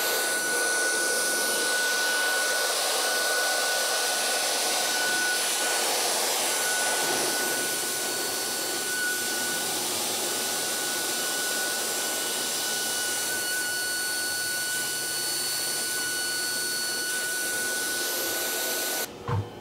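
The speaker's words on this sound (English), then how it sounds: "So I'm gonna get my dust collection system turned on and then we'll hit that and go." A dust collection system runs as a steady, loud whooshing drone with a high whine while a Onefinity CNC machine surfaces its spoilboard. The sound continues unbroken for about twenty seconds, with no talk.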